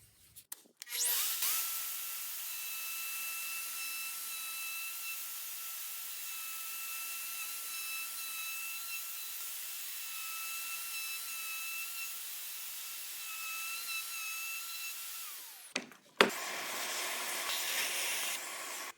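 An OF 2200 plunge router cuts a mortise in wood, holding a steady high whine for about fifteen seconds before spinning down, with faint handling noise afterward.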